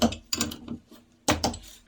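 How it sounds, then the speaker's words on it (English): A torque wrench tightens a connecting rod bolt to 20 Newton meters on an engine with a snapped crankshaft, producing two close bursts of sharp metallic ratchet clicks separated by a brief quiet gap. "So first we tighten this to the specified torque."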